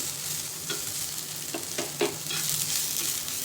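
Chopped onion frying in oil for patvadi aamti, a village-style Marathi curry, with a steady close sizzle and a few scraping strokes of a spoon stirring in the pan.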